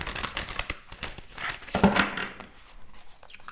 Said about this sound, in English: just sitting here shuffling the cards